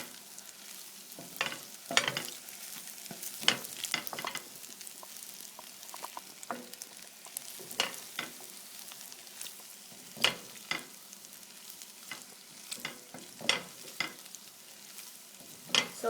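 Butter melts in a hot pan as cooked tortellini are stirred through it, giving soft sizzling under repeated scraping and clinking spoon strokes at an irregular pace, close by with no talking.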